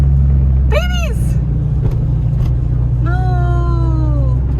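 A Nissan 350Z drift car's engine hums with a loud, steady low drone close by, while bright whistling tones rise and fall over it twice.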